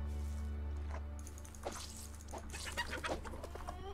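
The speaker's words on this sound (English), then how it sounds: "Chicken combat is good." Chickens cluck in The Sims Realms of Magic, a few short irregular clucks and squawks over a low steady hum, moderately close and heard without speech.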